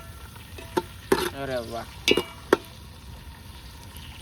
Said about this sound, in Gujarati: તો ડુંગળી છે ને પાકવા માંડી છે ભાઈ